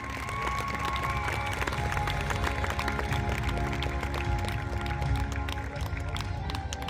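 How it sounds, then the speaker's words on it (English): Sustained crowd applause and cheering fill the grandstand at the 85th Will Rogers Memorial Rodeo in Vinita, Oklahoma, a steady, dense wash of clapping from many people that holds at a constant level throughout, with a faint announcer's voice underneath. "let us give a round of applause to them"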